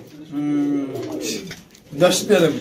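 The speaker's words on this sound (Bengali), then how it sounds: "এই যে জোড়াটা একদম রেস করা কবুতর, রানিং পেয়ার" Racing pigeons, a running pair, coo in a low, rolling murmur that swells and fades, with a few louder bursts near the end; voices talk nearby.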